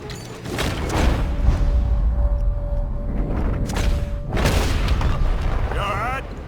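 An explosive charge detonates in the Red Dead Redemption 2 train robbery, loud booming blasts and rumbling debris spread across several seconds, with game voices briefly heard around them.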